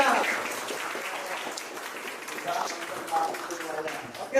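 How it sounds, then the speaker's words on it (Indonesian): A class of school pupils clap their hands together in a classroom, a dense patter of many small hands that swells and fades over a few seconds, with children's voices mixed in. "Iya, tepuk tangan semuanya."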